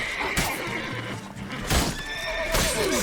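Horse in The Witcher 3: Blood and Wine whinnying and neighing several times, with hoof clops and combat clatter from the game mixed in.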